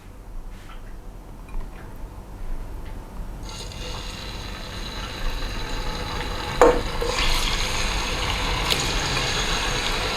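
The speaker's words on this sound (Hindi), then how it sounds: "चिकन को थोड़ी देर फ्राई करेंगे ताकि इसका रंग चेंज हो जाए" Chicken pieces, about a kilo, frying in half a cup of oil for Sindhi biryani, with a soft sizzle building into a steady, louder crackle after a few seconds, plus occasional stirring clatter.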